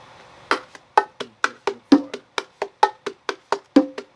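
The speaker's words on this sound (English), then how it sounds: "when the bongo is playing the martillo, which sounds like this" Bongos play the salsa martillo pattern, a steady run of sharp, close hand strikes with alternating pitched tones and slaps. The hits are evenly spaced and crisp, heard alone with no voices.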